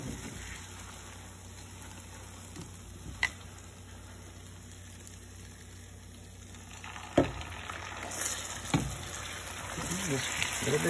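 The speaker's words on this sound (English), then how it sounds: "Just keep mixing that heavy cream in." Heavy cream stirred into hot caramel in a pan gives a steady close-up sizzle and bubbling hiss, with a few sharp clinks from the utensil and a steady high whine running underneath throughout.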